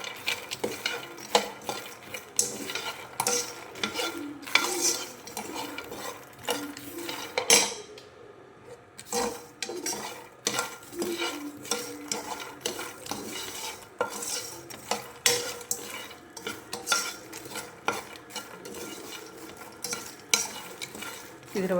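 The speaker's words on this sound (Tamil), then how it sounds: "இதோட நம்ம மசாலா கொட்டி நல்லா ஃப்ரை பண்ணிக்கலாம்" Masala frying in a pan with a sizzle, while a metal spoon stirs and scrapes steadily against the pan in close, repeated strokes, briefly pausing midway before resuming, with no voices.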